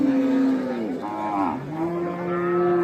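A cow bellows a long, low moo at a busy cattle market, rising and falling in pitch over a few seconds, loud and close with no talking over it.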